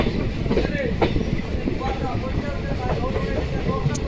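A demo train runs into Baraigram railway station with a steady low rumble and faint rhythmic clatter from the wheels, heard from on board, with a voice speaking over it.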